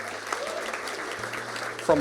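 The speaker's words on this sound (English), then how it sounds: "Why don't we give them a massive clap" Brief applause from an audience welcoming a panel at a morning talk, a dense wash of clapping under a low hum, with a voice cutting in at the end.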